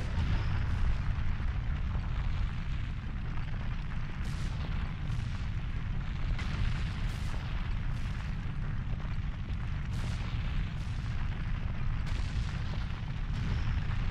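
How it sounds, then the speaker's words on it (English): Continuous rumbling explosions and crashing debris, heavy booms repeating over a dense low roar, as towers collapse in the final showdown of The Legend of Zelda: Ocarina of Time 3D. "Towers collapsing. Explosions everywhere."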